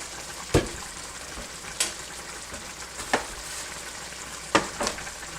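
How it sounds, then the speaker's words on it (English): Wine splashes into a hot pan of shrimp pasta and sizzles with a steady crackling hiss, marked by a few sharp stirring or spatter pops spread across the sizzle. "Now I'm going to add a little bit of wine. A couple of glugs of it."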